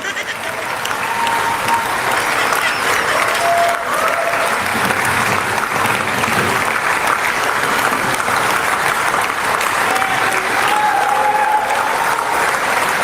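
Sustained applause from an audience fills a political speech venue during an address reaffirming support for the Marcos administration, loud and steady throughout with a faint murmur of voices beneath.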